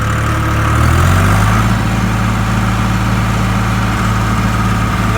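A Case IH tractor engine is held at its top speed of about 1900 RPM. It makes a loud, steady, close droning roar that settles into an even pitch after the first second and carries on unbroken.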